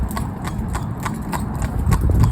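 Horse hooves clip-clop in a quick, even rhythm of close, distinct knocks, with a low background rumble and a faint voice underneath.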